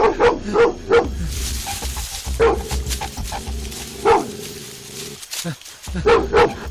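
A dog barks in short repeated bursts amid a movie scene, the barks spaced through the clip over a low rumbling background with other sounds mixed in.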